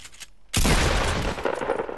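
Pump shotgun fire in Fortnite, a sudden loud blast after a quiet half-second, followed by dense sustained gunfire and rumble.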